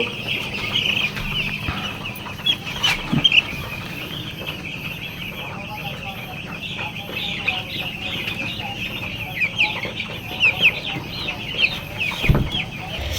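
Chickens cluck and chatter steadily at close range during eye-drop vaccination, with occasional louder squawks and a busy backdrop of other birds.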